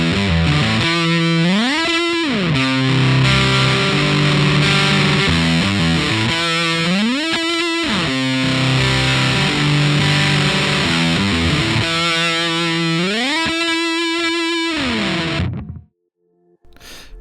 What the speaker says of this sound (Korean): 먼저 첫 번째로 추천하는 퍼지 페달은 일렉트로 하모닉스의 빅머프.